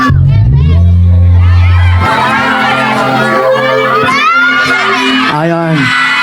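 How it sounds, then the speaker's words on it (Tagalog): Concert crowd at a live band show during a festival cheers and shouts, with loud whoops and a held musical tone at first, then mixed voices and calls over the noise. "Isang hiyawan"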